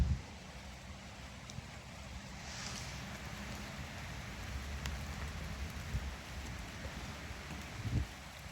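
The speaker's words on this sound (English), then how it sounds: "But yeah, it's raining. But it feels good. It's a nice rain." Warm rain falling outdoors near trees, a steady soft hiss of drops on surfaces with faint rustling, continuous and even throughout with a couple of slightly louder patters.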